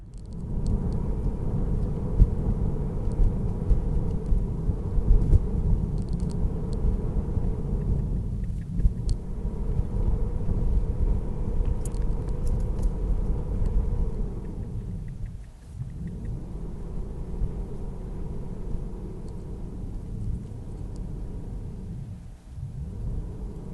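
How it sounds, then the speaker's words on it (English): A Tesla driving on FSD Beta slows to a stop and pulls away again several times, a steady low road rumble dipping briefly with each stop, with no talking. "you can just hear the car stopping and starting"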